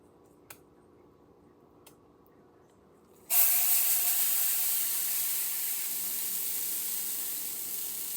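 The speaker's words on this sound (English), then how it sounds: "now I'm going to put some of my pancake batter. We'll do a test pancake." Vegan pancake batter hits a hot stainless steel pan and starts sizzling, a sudden loud hiss that keeps going steadily after a few faint clicks before it.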